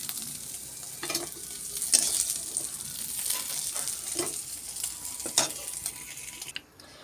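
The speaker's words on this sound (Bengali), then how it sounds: "তেল গরম হয়েছে, এই যে সাদা জিরে দিয়ে দিলাম।" White cumin seeds sizzle in hot oil, a soft continuous crackle with several stirring scrapes spaced through it, fairly quiet and close, fading at the end.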